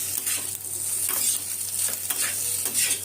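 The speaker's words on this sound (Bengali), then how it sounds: "সসটা দিয়ে একটু ভালো করে নাড়তে হবে।" Pasta tossed in sauce in a pan is stirred with steady soft scraping over a constant hiss of sizzling, close up and without speech.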